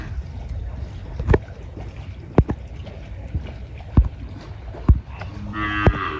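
Cattle mooing in a Bangladeshi village during a fishing day, a few short calls rising over rustling background noise with scattered knocks.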